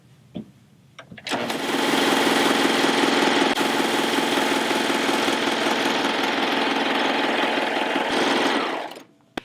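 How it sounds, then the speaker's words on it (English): A serger sewing machine stitches along fabric edges for a home sewing project. Its motor runs as a close, loud, steady whirring drone for about eight seconds, then stops, with a few small clicks before it starts and no talking. "Now I've serged all 4 sides"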